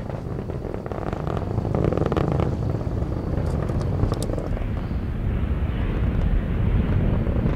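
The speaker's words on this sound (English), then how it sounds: "RD-180 throttling down slightly as expected, and her engine response looks good" Atlas V rocket's RD-180 engine roars during launch, a continuous broadband rumble with crackle, steady and loud throughout, heard from a distance with wind buffeting.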